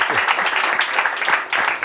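A lecture audience breaks into brief applause, a short burst of dense clapping at a fairly close, loud level with slight dips in intensity.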